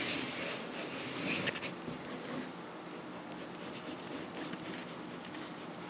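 A pencil scratches continuously across paper in a drawing, a close, steady, faint grainy rasp with slight rhythmic strokes and no talking.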